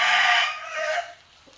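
A pet rooster gives a short, loud crow that breaks off into a brief cluck, close by and alone, lasting little more than a second.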